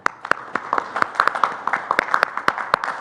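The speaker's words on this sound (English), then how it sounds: "so a round of applause for them" Audience at a talk on Laudato Si' applauding, a sparse scattering of distinct hand claps from a modest gathering, moderately close and steady for a few seconds.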